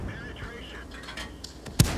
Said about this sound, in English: And we'll dump a couple rounds into this guy.